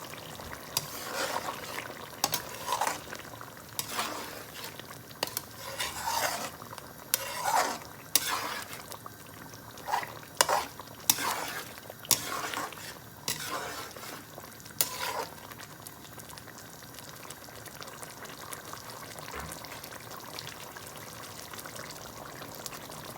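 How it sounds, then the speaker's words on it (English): Steady frying sizzle of chicken in a pot on high heat, with repeated bursts of scraping and stirring, fairly close, no talking. "We're going to put it on high heat now and fry it off, dry off the water."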